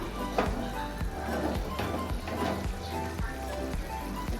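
A lote fish curry bubbles in a pan with a soft, crackling sizzle, while a spoon scrapes and stirs in a regular rhythm, fairly quiet and close.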